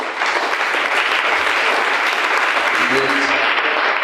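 A church congregation applauding, dense sustained clapping from a large crowd that stays loud and steady throughout, with faint voices mixed in.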